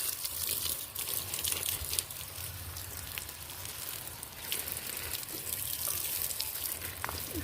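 Tap water runs steadily in a continuous close splashing rush, with small drips and patters over the flow throughout.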